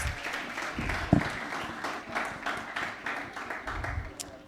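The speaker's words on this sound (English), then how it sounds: "Let's give him a round of applause" Audience applause at a mobile banking event in Sierra Leone, a moderate patter of clapping rising and fading over several seconds, with background voices mixed in.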